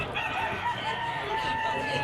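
A gamecock rooster crows loudly and close, a sustained strained call over outdoor background noise.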